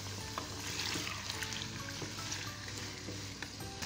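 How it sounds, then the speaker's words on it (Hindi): One kilogram of chicken fries in hot oil in a karahi, giving a steady, dense sizzle with fine crackles throughout, close and even, with no talk. "चिकन को कलर चेंज होने तक फ्राई करेंगे।"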